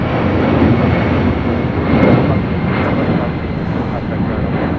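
A Delta Airlines Boeing 757-200 sports charter taking off from LAX gives a loud, steady low rumbling roar that stays close and dense throughout.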